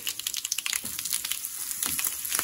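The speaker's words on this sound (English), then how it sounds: "mustard seed is cracking faster" Mustard seeds, asafoetida and two chilies crackle and spit in hot oil, a dense run of sharp pops and sizzling over a steady frying hiss, close and fairly quiet.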